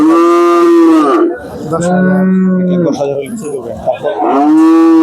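Cattle at a rural livestock market moo loudly and close, three long drawn-out calls one after another, with market chatter faintly behind.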